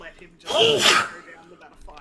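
One loud, close human sneeze with a sharp breathy burst, with people talking before and after it.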